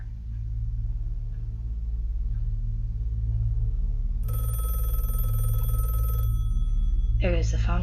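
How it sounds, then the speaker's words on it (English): A telephone bell rings loudly in a continuous burst for about two seconds over a steady low hum, followed by a brief voice at the end. "There goes the phone again."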